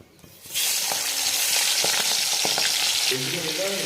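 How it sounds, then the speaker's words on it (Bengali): Prawns frying in a pan: a loud, dense sizzle bursts in after a quiet start and holds steady to the end, with faint clinks of stirring and no voices. "চলো মাছগুলো এবার ভেজে নিই"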